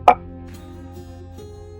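A single ice cube drops into a cocktail glass with a sharp close clink and plop, followed by a faint ringing tail and light settling taps.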